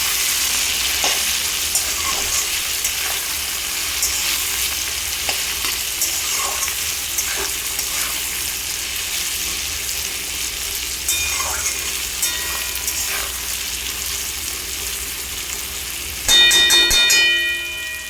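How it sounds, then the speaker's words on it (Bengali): Drumsticks with spices and Kashmiri red chili powder fry in a pan with a steady sizzle while a spoon scrapes and stirs, and a sharper metallic clatter comes near the end. "এইগুলো এখন আমি ভালো করে নাড়াচাড়া করে নেব"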